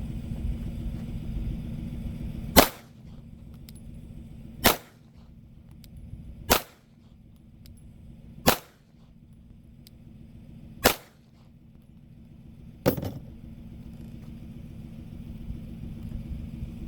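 A Glock 48 pistol fires six sharp, loud shots on an outdoor range, spaced about two seconds apart, over a low steady rumble with no talk.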